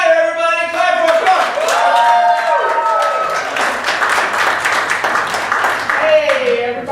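A stand-up comedy audience bursts into dense applause and cheering for a comedian taking the stage, loud and sustained, with a voice calling out over it near the start and end.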